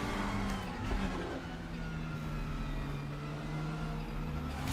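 A RaceRoom DTM racing car engine drones loud and unbroken, a faint sequential gearbox whine riding above the engine note, briefly swelling near the start, with no voices.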